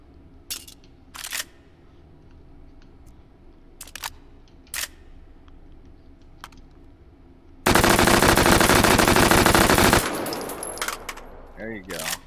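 Gunshots ring out in the VR shooting game H3VR, first as several sharp separate cracks, then a long dense burst of rapid fire lasting a few seconds, followed by faint talk.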